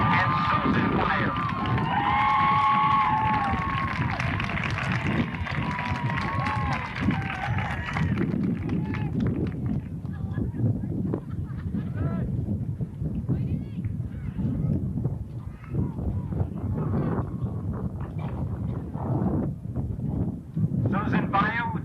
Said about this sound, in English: Missed that in the applause